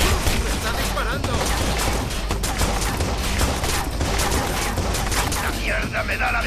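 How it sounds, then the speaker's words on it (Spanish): Dense, continuous gunfire and fusillade bursts from the Watch Dogs video game fill the whole stretch at high volume, with shouted voices mixed into the chaotic shooting. "¡Está disparando!"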